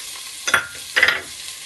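Cumin seeds and green chillies hitting hot oil for masala matar pulao, two short crackling sizzle bursts about half a second apart over a quiet background.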